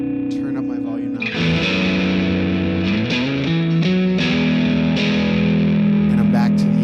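A VOX AC10 guitar amp plays distorted, high-gain rock chords, with sustained crunchy strums changing every second or so. The playing is loud and continuous, with a digital reverb adding ambience.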